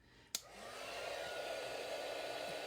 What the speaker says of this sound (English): just get my heat tool heated up a little bit